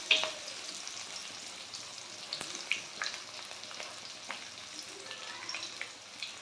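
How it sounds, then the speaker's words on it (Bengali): Green chillies and turmeric fry in oil while being stirred, a soft, fairly quiet crackling sizzle with scattered small pops and the occasional light scrape of a spatula. "একটু নাড়াচাড়া করে ভেজে নেব।"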